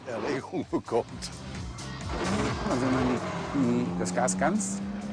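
A vintage Mercedes 710 SS / 720 SSK supercharged car driving, its engine note rising and holding with a sustained mechanical drone and whine, a few brief louder bursts at the start, with someone talking over it.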